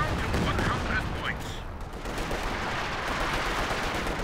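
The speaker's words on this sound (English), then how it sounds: "Huge mortar shell onto the guards." Mortar fire and battlefield explosions in Company of Heroes 2, a large 2v2 match: a loud blast with a descending whistle, then rolling rumble and scattered gunfire under a commentator's voice.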